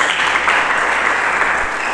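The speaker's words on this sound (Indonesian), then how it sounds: "Lebih meriah lagi, berikan tepuk tangan bagi Yesus." A church congregation applauds steadily and loudly throughout, a dense continuous wash of clapping from many hands during a worship service.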